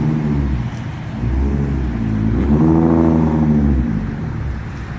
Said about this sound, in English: Oh, the Mustang's going. It sounds, something's off with that. I think it's a 4-cylinder.